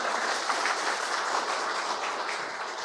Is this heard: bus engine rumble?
no